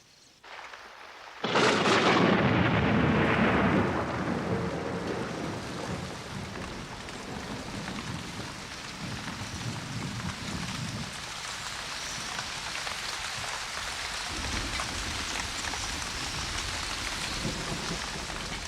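A thunderstorm breaks over the African plains, with a sharp crack of thunder rolling into a rumble, followed by steady, heavy rain falling in a constant hiss.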